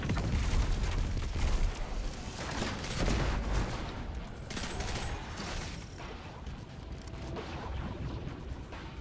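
Booming explosions and rapid gunfire crackle continuously in the video game Destiny 2, loud and dense, with rumbling low end and no talking.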